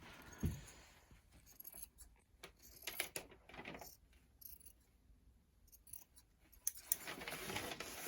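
Scissors trim macrame cord during a workshop, making faint, scattered snipping clicks against a quiet room, with a few louder cuts near the start and end.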